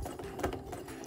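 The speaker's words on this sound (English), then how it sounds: "Actually, I'm just gonna do a couple stitches in place here." A sewing machine stitching in place during free-motion quilting, a quick close mechanical whirr with rapid needle ticks, faint and steady for about a second, with no talking.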